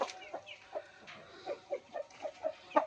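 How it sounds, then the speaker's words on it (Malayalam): Chickens clucking in a backyard coop, a string of short, close clucks and calls in an uneven rhythm, with no voices. "ഇതതിൻ്റെ അപ്പുറത്തേക്ക് വലിയ കോഴിക്കളും ഇവിടെ ചെറിയ കോഴിക്കളിട്ടാണ്"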